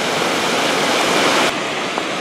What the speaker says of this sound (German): Nächste kleine Wasserstufe.